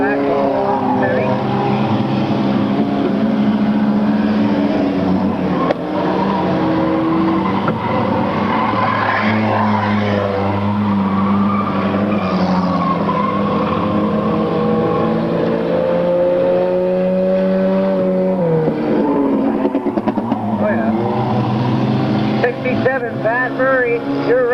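Stock cars racing, including Pat Murray's No. 67 Volkswagen: a loud, continuous engine roar with shifting pitch as the cars pass, under steady talk throughout.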